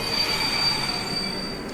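Train wheels squealing in Batman Begins, a sustained high metallic screech over rumbling rail noise, loud and continuous.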